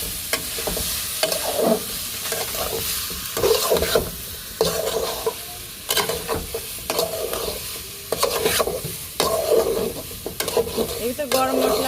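Vegetables go into a hot pan for a home-cooked hilsa and water lily dish and are stirred repeatedly, so loud sizzling is broken by clattering scrapes of the spoon in an irregular rhythm, close and with no talk.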